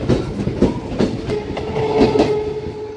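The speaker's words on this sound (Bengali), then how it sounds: "ট্রেন থেকে জাস্ট নামলাম" A train rolling along the rails gives a steady rumble with rhythmic clickety-clack beats, close and loud, carrying on without pause.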